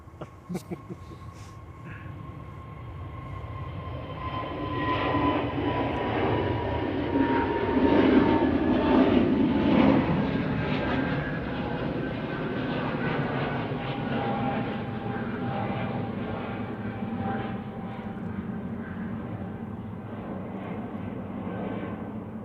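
An easyJet airliner bound for Belfast takes off from Manchester Airport, its jet roar swelling to a peak midway and then easing into a long, fading rumble with steady tonal whine.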